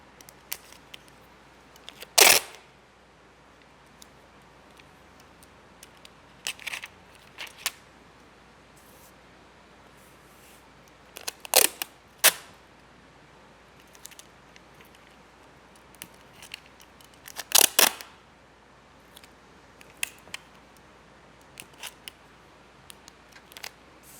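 Tape is handled and scissors cut a paper pattern for a tooled leather knife sheath: scattered crisp snips and rips, close and fairly loud, separated by quiet stretches, with no talking.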